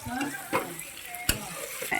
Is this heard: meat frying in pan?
yes